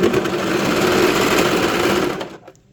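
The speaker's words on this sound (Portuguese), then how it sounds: "vou costurar a lateral" A sewing machine runs steadily, stitching the side seam of a pet dress. The whirring hum is close and continuous for a couple of seconds, then stops abruptly.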